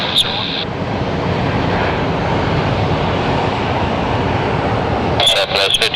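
An airliner, callsign Big Stripe 9401, takes off from runway 7 right at Phoenix Sky Harbor International Airport, with a loud, steady broadband roar that fills the whole stretch, swelling slightly near the end.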